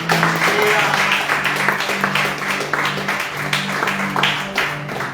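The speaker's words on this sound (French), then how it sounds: "Est-ce qu'on peut encore acclamer pour le Seigneur?" Church congregation clapping and cheering for the Lord, a dense continuous wave of applause with rhythmic claps and voices calling out.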